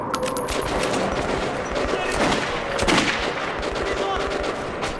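Rapid gunfire in Metro 2033 Redux, a dense burst of loud, close shots rattling almost continuously over a few seconds, with a heavier blast near the middle.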